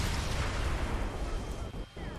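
A dense, rumbling burst of explosive noise from Saints Row The Third Remastered fills the clip, booming and crackling continuously before briefly dipping, like a game blast playing loudly.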